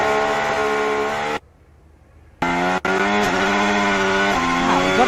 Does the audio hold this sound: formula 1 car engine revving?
yes